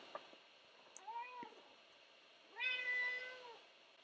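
A house cat meows twice indoors, a short mewing call and then a longer, louder meow a second later, both close and clear over quiet room background.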